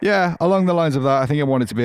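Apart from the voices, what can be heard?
None of the usual background noises is heard.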